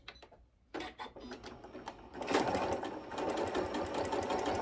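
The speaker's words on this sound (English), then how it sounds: "I'm sewing today on the Janome Continental M6." A Janome Continental M6 sewing machine stitching a tote bag with a polyester thread and 90/14 needle, starting with a few short clicks and then settling into a steady, fast, close mechanical whir.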